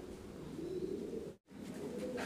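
Shield-marked Chinese Owl fancy pigeon, white with coloured shoulder feathers, giving a steady low cooing that runs almost continuously, broken once by a brief silence.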